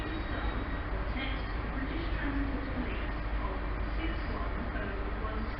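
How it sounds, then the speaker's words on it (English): A Great Western Railway service to Penzance departs Truro station, a continuous low rumble and rolling noise at moderate distance, with talk mixed in. "now departing is the 1526 Great Western Railway service"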